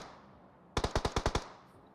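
Rapid automatic gunfire in the battle royale game Battlegrounds, a tight burst of about seven sharp shots in quick succession, loud and close against a quiet background.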